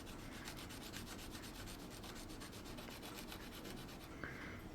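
A sanding stick rubs steadily across a wooden model ship part, giving a continuous close rasping scrape with a fast back-and-forth rhythm that holds for several seconds, with no talking.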